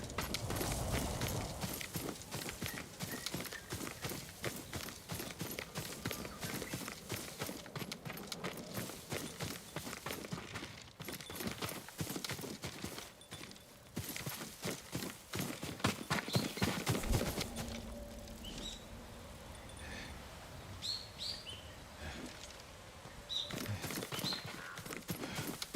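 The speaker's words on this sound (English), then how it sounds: "Yuriko's horse. She can't be far." Horse hooves beat a steady clip-clop in the video game Ghost of Tsushima, running on under a dense, rustling outdoor ambience. The sound briefly thins out near the end.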